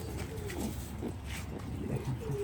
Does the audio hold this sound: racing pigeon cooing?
yes